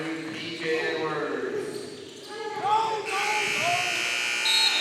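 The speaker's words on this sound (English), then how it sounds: "the buzzer goes off before Control could get the shot off" A loud buzzer ending the quarter blares over a lively arena crowd at a prep school basketball game while a commentator keeps talking, the tone holding steady for several seconds.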